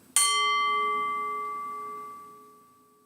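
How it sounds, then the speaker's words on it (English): A singing bowl struck once like a gong with a wooden mallet, giving a bright metallic strike followed by a long, clear ringing tone that slowly fades over about three seconds, heard alone and close. "if you have the luxury of a singing bowl, and I love mine,"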